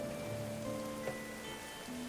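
Steady, soft rain falls in the medieval colony-building game Going Medieval, a constant faint hiss behind layered background music tones.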